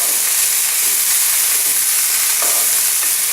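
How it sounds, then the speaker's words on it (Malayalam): Mushrooms, spinach and chopped capsicum sizzle loudly in a hot pan, a continuous frying hiss broken by a few soft stirring scrapes, close up and with no talking. "അരിഞ്ഞു വെച്ച ക്യാപ്സിക്കം ചേർത്ത് കൊടുക്കാം."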